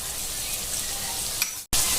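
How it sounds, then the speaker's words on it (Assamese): Broiler chicken meat fries in hot oil with a loud, steady, close sizzle, broken by one brief gap just before the end. "সেয়া মাংসখিনি অকণমান তেলতে ফ্ৰাই হৈ থাকক"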